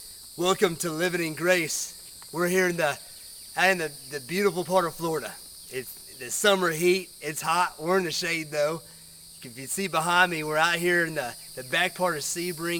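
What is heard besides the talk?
crickets chirping in Florida Everglades-like backwoods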